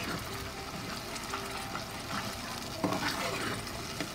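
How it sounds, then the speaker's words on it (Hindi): Onions fry in a pan for fish curry, giving a steady close sizzle broken by scraping stirs and a louder burst near the end. "प्याज इसको मैं डाल देंगे और खूब अच्छी तरह से इसकी फिर से भुनाई करेंगे।"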